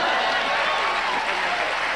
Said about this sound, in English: a round of applause for 5 minutes